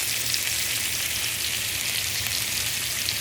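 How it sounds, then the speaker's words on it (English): Chicken for fajitas sears in a hot pan, giving off a loud, continuous sizzle with a bright, even crackle that holds steady throughout, with no voices. "so I can sear the side"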